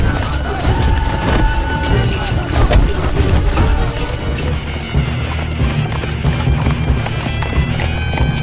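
Hooves clip-clop rapidly as a horse-drawn carriage gallops amid a loud, busy mix of rumbling noise, with voices and a horse's whinny briefly audible.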